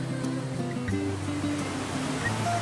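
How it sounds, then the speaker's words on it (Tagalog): A clear river stream flowing outdoors, giving a steady, fairly loud rushing and gurgling wash of water that holds evenly throughout with no talking. "Sapa yan ah. Ay, sapa, ilog ah."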